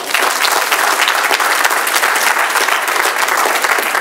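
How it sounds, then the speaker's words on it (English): Dense, loud audience applause at a talk by an attorney, many hands clapping continuously and evenly for about four seconds with no voices over it. "Let's give them a round of applause."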